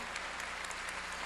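Church congregation applauding together, a steady dense clapping that fills the short moment without pause, fairly distant and even in level.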